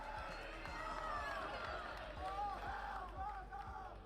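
Crowd at a Call of Duty esports event cheering and roaring, a sustained wash of many voices with whoops rising and falling, under nearby talk.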